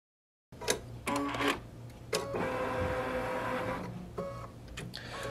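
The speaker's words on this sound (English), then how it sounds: "It's actually sewing out a little calibration registration mark" A Baby Lock Solaris Vision embroidery machine, fitted with a big hoop carrying a quilt, sews out a small calibration mark with short bursts of mechanical whirring and clicking, then a longer steady stitching run.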